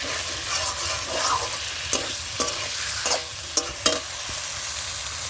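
Curry with amudi fish sizzling steadily as it is sautéed over a clay stove, a continuous close frying hiss broken by a few soft clicks of stirring.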